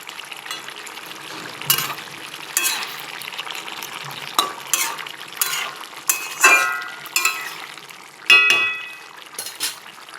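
Rohu fish curry with potato, raw banana and tomato simmering in a pot, with soft bubbling and sizzling broken by several sharp clanks and scrapes of a ladle or utensil against the pan, fairly close.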